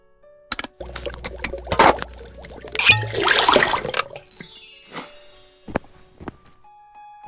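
Water from a bucket poured onto a fireplace in the video game Łowca Demonów: Kroniki z Otchłani, a short splashing rush followed by a hissing, fizzing fade with scattered clicks, heard alone at moderate volume.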